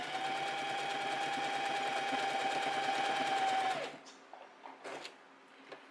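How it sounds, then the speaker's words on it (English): A sewing machine stitches through fabric for a summer top, a steady fast mechanical whir lasting several seconds before stopping, followed by a few faint handling clicks and rustles. "now we just start sewing without doing anything else"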